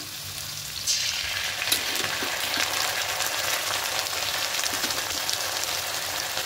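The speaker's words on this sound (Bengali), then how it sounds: "এবার এখানে দেবো আদা, কাঁচা লঙ্কা, রসুন পেস্ট দেবো" Ginger, green chilli and garlic paste sizzles in hot oil in a pan for a fish curry, a loud, steady hiss that flares up about a second in, with faint stirring scrapes and no voices.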